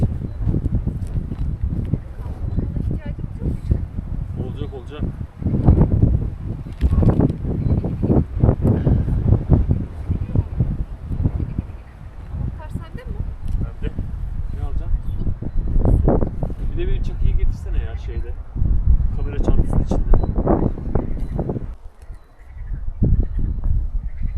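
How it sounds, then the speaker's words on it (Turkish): Strong gusty wind buffets the microphone in loud irregular bursts, with a person talking intermittently underneath. "Hava çok rüzgarlı arkadaşlar."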